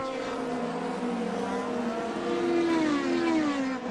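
Formula 3000 race cars at the Nürburgring in 2002 scream past, high engine notes rising and sweeping in pitch as they accelerate, loud and sustained at mid distance.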